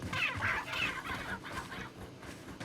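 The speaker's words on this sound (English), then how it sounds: "Look at that chicken." A chicken in the video game Resident Evil 4 clucks in a quick run of sharp, bright calls, followed by softer scattered clucks, fairly close and clear over a low game ambience.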